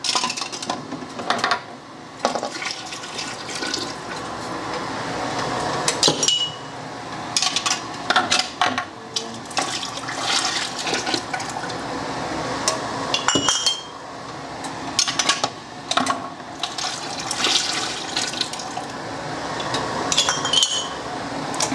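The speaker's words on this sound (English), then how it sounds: "I'm going to start pulling the jars out of the canner now." Glass canning jars of Bartlett pears being lifted out of a hot water-bath canner, giving repeated glassy clinks and knocks over a steady background hiss, with no talking.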